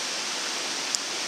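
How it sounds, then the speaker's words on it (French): A mountain stream swollen by rain roars in a steady, dense rush of water, continuous and fairly close, with no voices over it. "le torrent, le ruisseau gronde encore pas mal"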